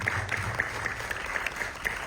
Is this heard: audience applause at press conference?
yes